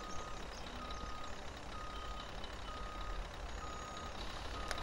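Reversing beeps sound in steady, evenly spaced tones as a vehicle backs up in Farming Simulator 19, over a constant engine drone and broadband noise, with no talk.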